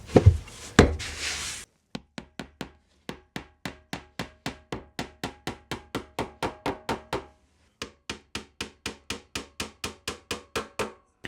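Back panel of a wooden cat house being tacked into place, a short burst of handling noise followed by a long run of sharp, evenly spaced taps close by, pausing briefly before resuming.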